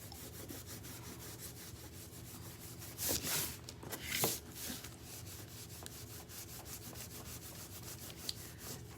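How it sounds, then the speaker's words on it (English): A cloth rubs back Old World finishing paint on a wooden piece, giving close, steady scrubbing strokes in a repeated rhythm, with two louder, harsher bursts of rubbing partway through and no talking. "Now I'm going to start rubbing back."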